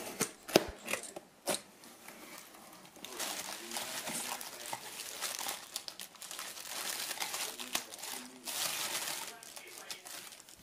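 Plastic packaging for a half-twist bike throttle grip is torn open and handled, giving repeated crinkling and crumpling rustles with a few sharp snaps, close up, with some talking mixed in.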